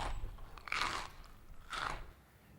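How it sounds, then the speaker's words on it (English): Less fresh-sounding crisps being crunched in two separate bites, each a muffled, dull crackle, close and moderately quiet with no talking. "if we're eating some crisps and they sound like this"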